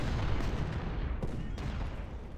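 Dense, continuous crackle of massed musket volleys and artillery fire from a Civil War strategy game battle at Gettysburg, loud and unbroken throughout with no talking.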